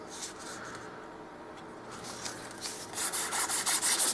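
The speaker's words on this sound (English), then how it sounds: "I'm taking off the sharp edges just with the 400 grit sandpaper." Brass guitar nut edges being rubbed with 400 grit sandpaper, quiet scratchy rubbing at first, then a run of louder, regular back-and-forth strokes near the end.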